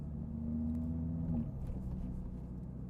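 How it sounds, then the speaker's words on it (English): A modified Stage 1 Audi RS3 with a five-cylinder engine idles with a deep, steady rumble up close, its pitch briefly lifting before settling back to an even drone. "5-cylinder rumble."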